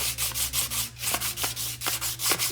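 Motorcycle brake rotor on a BMW F650CS rubbed down to remove rust, producing steady rhythmic scrubbing strokes, about nine to ten close, even passes.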